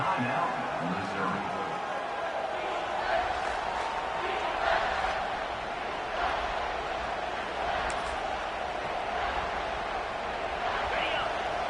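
A big stadium crowd in the NCAA 26 college football video game roars steadily throughout on a third down, a dense continuous wash of cheering with commentary talking over it.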